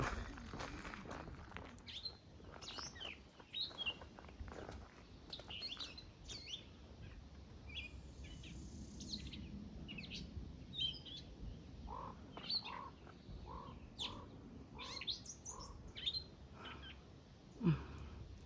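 Birds chirp and call in short, scattered bursts, fairly faint, against a quiet outdoor background on the Appalachian Trail with occasional rustling.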